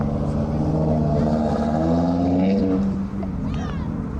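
A Porsche at a 1990s car meet pulls away with a steady, loud engine drone whose pitch climbs as it accelerates. People talk over it the whole time.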